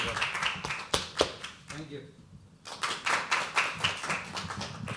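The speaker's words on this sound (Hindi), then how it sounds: "तालियां हो जाए" Audience at a live poetry open mic gives scattered, uneven applause, with sharp individual claps in bursts, a short lull midway, then renewed clapping, fairly close.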